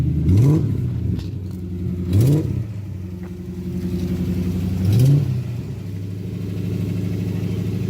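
Engine of a lowered drift Lexus creeping slowly up a driveway, a steady close rumbling idle with three brief rising revs spaced a few seconds apart and faint scraping clatter.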